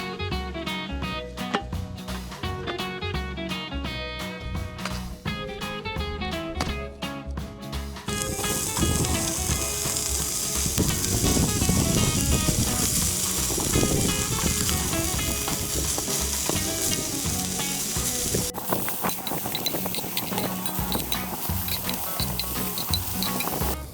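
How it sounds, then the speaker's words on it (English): Gyro meat pan-frying in a skillet during outdoor camp cooking in Colorado makes a steady, hissing sizzle under background music that continues throughout. "then we're going to pan fry the meat"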